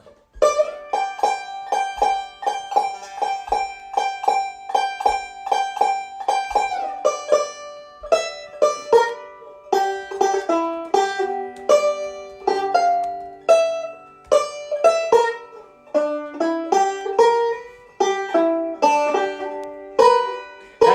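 A banjo plays a bright, rolling Scruggs-style lick, starting with a repeated pattern and moving into quick, ringing notes higher up the neck.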